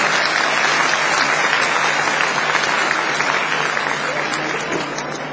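Conference audience applause, a loud continuous wash of many hands clapping that holds steady for several seconds and eases slightly at the end.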